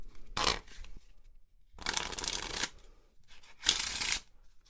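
Three quick bursts of crisp paper flutter as playing cards are fanned, separated by short pauses, close and fairly quiet.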